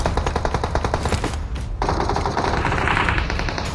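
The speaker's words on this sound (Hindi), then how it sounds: "मुझे गोलियां चलने की आवाज आती है" Rapid bursts of automatic gunfire in the game BGMI rattle continuously, loud and close, with a brief lull before the shooting resumes, dense and sustained.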